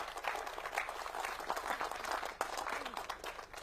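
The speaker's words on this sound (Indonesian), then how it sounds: "Oke, tepuk tangan kawan-kawan sekalian." Audience applause after a motivational talk segment, a steady wash of many hands clapping at moderate volume that continues for several seconds, with no speech over it.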